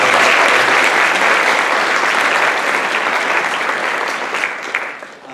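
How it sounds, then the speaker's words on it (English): Audience at a college healthcare program event applauding nursing instructors, a loud dense roar of clapping that holds steady, then thins and fades toward the end. "let's go ahead and give Judy and Kathy Hudson a round of applause"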